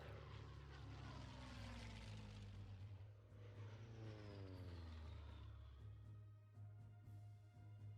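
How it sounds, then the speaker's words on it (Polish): Propeller aircraft engine drone from the WWII-style strategy game Hex of Steel, a steady loud hum with a rising and falling pitch sweep as the plane passes, continuous throughout with no talk. "Mamy samolot."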